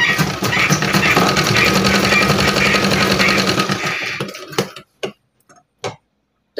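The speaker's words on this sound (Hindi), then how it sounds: "अच्छी तरीके से मिलाते हुए हम सिलाई करेंगे" A sewing machine stitching red bedsheet pieces makes a rapid, steady mechanical chatter at close range for about four seconds, then stops, leaving a few isolated clicks and knocks.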